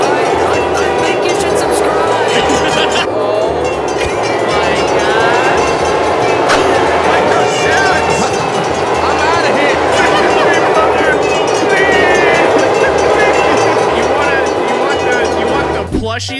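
A continuous rumbling of a video-game tram rolling along rails with rhythmic clatter, steady and loud, while voices talk over it.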